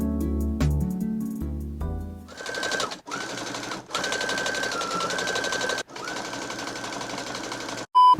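A home sewing machine stitches tapestry fabric for a pair of pants, running in steady, loud mechanical bursts separated by short pauses, after a few opening musical notes.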